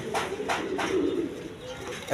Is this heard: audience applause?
no